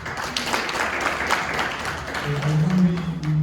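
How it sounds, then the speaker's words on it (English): A summit audience applauds at closing remarks, a dense wash of clapping from a crowd with a voice talking over it toward the end. "Let's give ourselves a round of applause."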